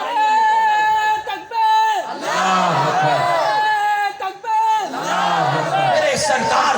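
A religious gathering audience chants slogans in unison during a sermon, with loud rhythmic bursts of many voices rising and falling in waves, separated by brief pauses, close and full.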